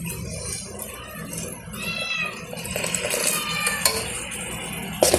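A spoon stirs ukkarai sweet in a pan after hot sugar syrup is poured in, giving a steady scraping and clinking of utensil against metal with faint sizzling, ending in a louder clatter.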